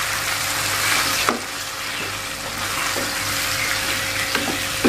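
Shrimp and petai frying in a pan, a continuous close sizzle with a few sharp scraping knocks of a spatula as the mixture is stirred.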